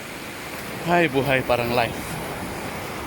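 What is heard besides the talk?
sea waves at the seashore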